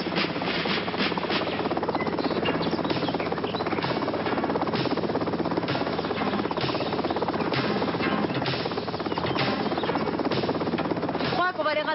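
A cartoon helicopter flies steadily throughout, a continuous buzzing rotor drone mixed with music and animated dialogue in French.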